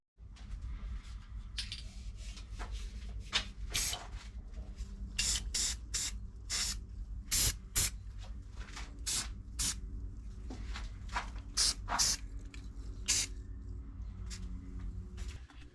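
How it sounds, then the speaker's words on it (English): A steel washer being welded onto a snare drum shell, with bursts of sharp hissing crackle that start and stop in short irregular pulses over a low steady hum, close up. "I'm gonna weld that washer on there."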